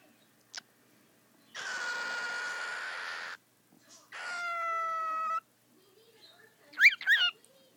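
A pet cockatiel sings in short bursts: a brief chirp, then two sustained whistled phrases, the second with stacked harmonic tones, and finally a pair of sharp, rising squawks close by.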